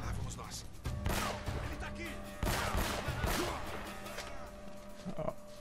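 Bursts of gunfire and impact cracks go off at moderate volume during a firefight in the Uncharted video game, while players talk over the shooting.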